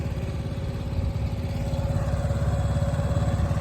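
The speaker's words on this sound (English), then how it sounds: "And that's just idling, ain't it?" A new 7 hp boat motor from Amazon idles nearby, a steady rapid low chugging and clatter that grows slightly louder, with no talking.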